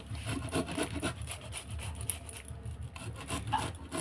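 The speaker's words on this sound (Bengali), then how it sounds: "আদা ঘষা দিয়ে ঘষে নিচ্ছি" Cauliflower florets are scraped across a ginger grater in quick, soft, repeated rasping strokes, close and faint, with no talking.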